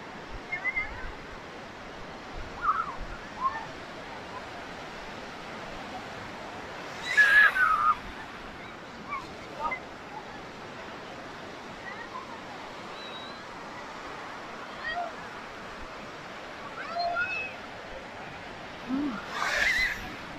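Ocean waves roll in on a Mazatlán beach at high tide, a low, steady wash of surf with a few brief swells and louder bursts, heard from close by amid wind.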